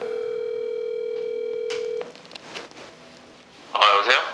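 A steady telephone dial tone hums alone for about two seconds on a call to an SK affiliate HR manager, then cuts off into faint line noise and a brief burst of voice.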